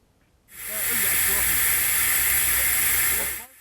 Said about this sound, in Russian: Шипение утекающего газа слышно уже на подходе к месту ремонтных работ.